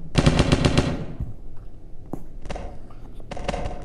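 Rapid automatic gunfire from a video game gun, a dense burst of loud shots at the start followed by a few scattered single shots and another short burst at the end.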